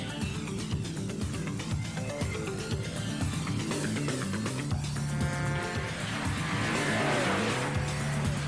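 A Test Track ride vehicle at Walt Disney World accelerates hard, with a loud, steady motor whine that climbs in pitch and tire noise throughout.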